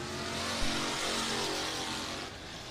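Race cars run hot laps at All Tech Raceway in Ellisville, Florida, a steady loud engine roar filling the track with a brief revving surge, no voices over it.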